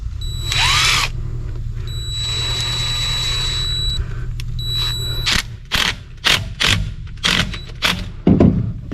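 A power driver tightens a hose clamp onto plastic hose on a homemade water truck: a few seconds of loud, steady whirring, then a run of sharp, uneven ratcheting clicks and bursts close by.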